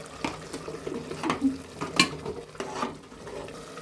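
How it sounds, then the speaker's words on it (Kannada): Mushroom masala with chicken masala and turmeric simmers in a pan with soft bubbling and intermittent stirring scrapes, several distinct clinks and pops rising over a quiet sizzle. "ಇವಾಗ ನೋಡಿ ಇದು ಕುದೀತಾ ಇದೆ, ಮಶ್ರೂಮ್ ಎಲ್ಲ ನೀರು ಬಿಟ್ಕೊಳ್ಳುತ್ತೆ."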